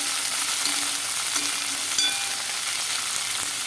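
Okra and potatoes frying in a pan, a steady, dense sizzle that fills the whole stretch at close range, with faint stirring scrapes and no voices.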